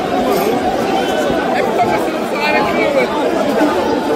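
Dense crowd chatter and shouting fills the air steadily as people surge into a store to loot it after a PSG victory, many voices overlapping at close range without pause.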